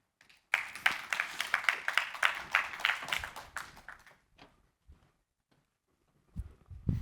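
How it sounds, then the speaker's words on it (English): A symposium audience at the ITI World Symposium 2024 gives a short round of clapping. It starts abruptly, stays crisp and close for about three seconds, then thins out into near silence. "Please give him a round of applause."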